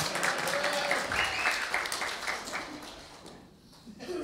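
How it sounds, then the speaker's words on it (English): A church congregation gives a brief round of applause for a member called up for prayer, a moderately loud wash of clapping that gradually thins and fades out. "look, you're getting a little clap"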